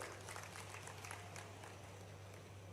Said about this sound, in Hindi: इसी का चलो सीधी के लिए ताली बजा दो